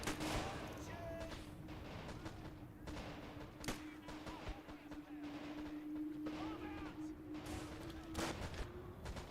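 Machine-gun bursts and scattered gunfire rattle through a battle in a WWII strategy video game, with a Fallschirmjäger MG team and a StuG assault gun engaged. Dense, continuous combat noise carries a steady engine drone beneath it, and a commentator talks over the action.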